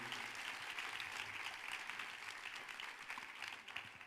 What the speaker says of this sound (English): Give another round of applause for Bill and Jenna.